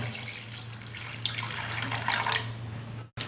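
Water pours steadily into a pot for about three seconds, a continuous splashing stream over a low steady hum, ending abruptly.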